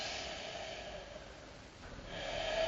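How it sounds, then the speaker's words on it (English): Odd doubled breathing with a snorting quality, a long steady exhale swelling near the end, close and moderately quiet with no talking. "There's a strange sound from the breathing as well. Totally Almost different, like two breaths."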